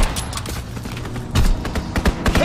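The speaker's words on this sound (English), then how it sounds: "Strafing run inbound." Rapid strafing-run gunfire from a World War II aircraft in the Call of Duty WW2 multiplayer game, a loud burst of rattling shots and booms that thickens midway and continues in repeated impacts.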